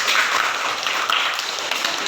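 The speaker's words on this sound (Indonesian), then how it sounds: "berikan tepuk tangan buat kelompok satu" Short burst of audience applause for a student group that has just presented in a classroom, dense clapping heard close and alone.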